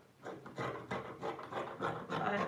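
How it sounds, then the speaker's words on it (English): Scissors trimming fabric for a four-piece skirt, heard as a steady series of rhythmic rasping snips, close and moderately loud, with no talking. "I'm just trying to trim my fabric"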